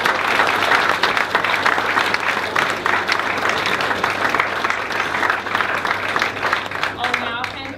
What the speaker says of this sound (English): please give a round of applause to all of our sponsors